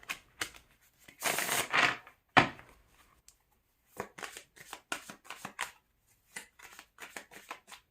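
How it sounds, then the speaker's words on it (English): Bursts of riffling and snapping as a tarot deck is shuffled, followed by a series of quick, light taps and flicks, close up and otherwise quiet. "All right, I am going to shuffle."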